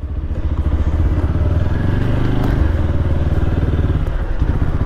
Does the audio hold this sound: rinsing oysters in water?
no